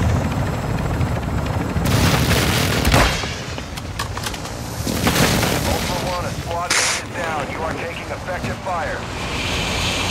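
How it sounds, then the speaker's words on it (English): Airstrike explosions in a combat video game, with heavy booming blasts and crackling gunfire over a constant helicopter rotor drone. The mix stays loud and dense throughout. "Oh shit, an airstrike."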